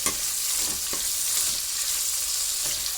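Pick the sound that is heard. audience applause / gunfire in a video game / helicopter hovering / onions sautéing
onions sautéing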